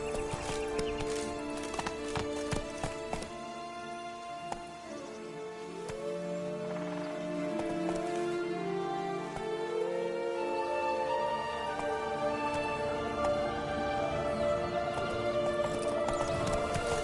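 A horse in The Witcher 3: Blood and Wine gallops with rapid rhythmic hoofbeats under a swelling orchestral score, with whinnies and other game sounds in between.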